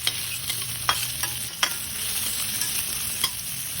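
Onion and garlic sautéing in a pan for a tokwa and bangus dish: a steady sizzle with a low hum beneath it and several sharp scrapes and clinks of stirring, close and clear, with no talking.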